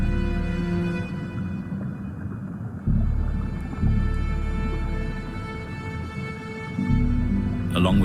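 A fictional mimic mother whale calls beside her calf in long, low, tonal moans that swell and shift in steady, overlapping surges, loud and continuous throughout.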